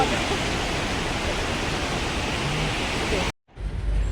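A secret waterfall in the Melghat forest near Amravati, reached on a trek, gives a continuous close, loud rushing roar that stops abruptly near the end before resuming.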